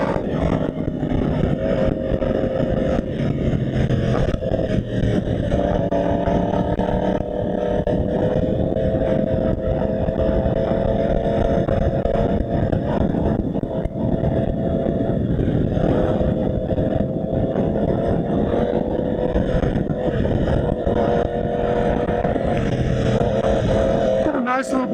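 A Yamaha R1 motorcycle is ridden past a park, and its engine drones loudly and continuously with slight shifts in pitch. Someone talks over it throughout.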